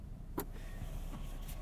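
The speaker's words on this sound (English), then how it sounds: "lots of versatility, a lot of options you can do with that roll down rear window" A power rear window in a 2022 Toyota Tundra Limited 4WD CrewMax truck rolls down inside the cab, giving a faint steady motor whir, with a brief louder click near the start.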